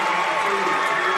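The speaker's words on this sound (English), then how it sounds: "a little Bronx cheer coming out from the St. Joe faithful" Bronx cheer from St. Joseph fans at a boys basketball game against Riley, a dense, steady roar of crowd noise filling the gym, loud and continuous throughout.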